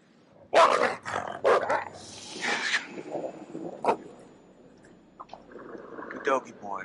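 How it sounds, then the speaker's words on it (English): A dog in the horror video game Until Dawn barks and growls in short, close bursts, mixed with bits of speech and game sounds. "Good doggy boy, calm down."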